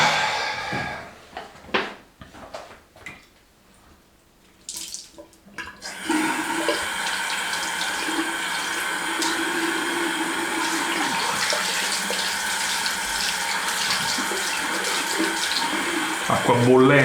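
Hot water runs steadily from a tap at a barber's basin during a traditional wet shave, a close continuous splashing stream that starts after several seconds of light handling clatter.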